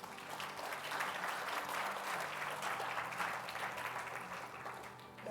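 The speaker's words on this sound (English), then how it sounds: "Please give her a round of applause." Conference audience applauding a speaker as she is invited onstage, a steady wash of clapping at moderate distance that holds and tapers slightly.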